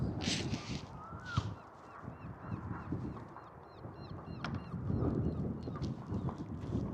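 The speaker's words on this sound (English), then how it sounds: "Did you hear that? The herring gull call." A herring gull calling at a coastal marsh nature reserve, with a few faint, distant honking cries over steady wind and outdoor background noise.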